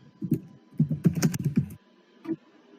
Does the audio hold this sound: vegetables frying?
no